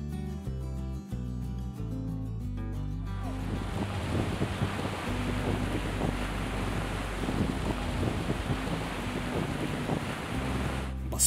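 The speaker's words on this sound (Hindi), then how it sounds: "बसपा नदी का शोर कानों को एक अलग ही सुकून देता है।" Rushing water of the Baspa River in the valley near Chitkul, a loud, steady broadband roar after a brief musical opening, with wind buffeting the microphone and no voices.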